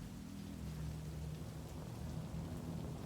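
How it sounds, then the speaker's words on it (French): Heavy rain pouring in the video game Cyberpunk 2077, a dense, steady roar of rainfall with a low rumbling undertone holding loud and unbroken throughout, with no voices. "Oh, la pluie battante, là."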